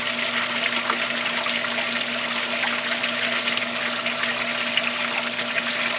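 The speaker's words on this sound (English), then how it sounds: "you can see the water's actually now splashing out" Water rushes and splashes steadily out of a shower sieve during a flow test, a constant loud hiss with a faint pump hum underneath and no talking.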